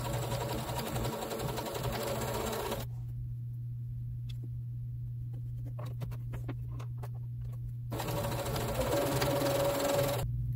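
A sewing machine chain-stitches a seam joining quilt squares in a steady, even run, pausing for a few seconds midway while faint handling clicks sound, then starting up again.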